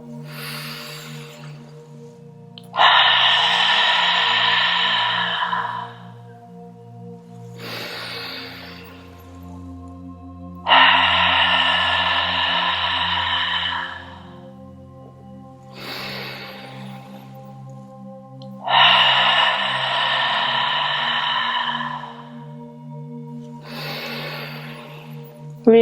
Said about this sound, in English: Really feel the breath moving from the bottom of the belly, pushing it out.